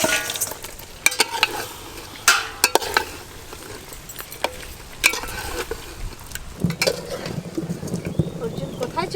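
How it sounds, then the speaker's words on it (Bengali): Chicken and pre-fried potatoes for biryani fry in a pan as a spatula stirs them, with sharp clacks and scrapes over a low sizzle. Faint voices come and go in the background. "চিকেনের সঙ্গে ভেজে রাখা আলুগুলো দিয়ে আরেকটু ভালো করে"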